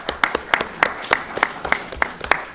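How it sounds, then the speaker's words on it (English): A small group at a city Board of Public Works and Safety meeting claps, producing a handful of sharp, close, uneven hand claps rather than a full ovation. "You can give yourself a round of applause."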